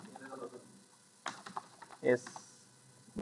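Keys clatter on a computer keyboard while text is entered in MS Word, quick light taps in short bursts under a voice speaking, close and soft.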